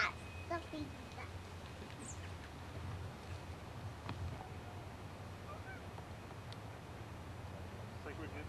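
Ducks and geese honk and quack faintly at a distance over a low, steady outdoor rumble, the calls scattered and intermittent.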